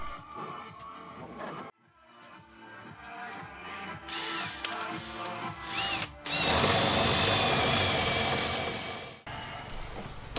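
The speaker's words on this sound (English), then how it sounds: "I am drilling the hole 2 mm wider for an easy run through." A power drill bores a hole for wiring in a cabin, starting with a pulsing motor, then a brief pause and a loud, sustained high whine as the bit works through, stopping near the end.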